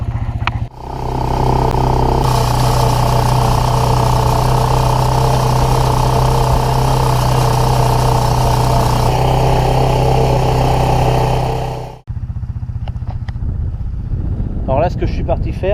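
A quad bike spreading organic slug pellets drives across a field, its engine a loud, steady mechanical drone with a rattling, ratchet-like clatter that cuts out abruptly near the end, after which a person talks.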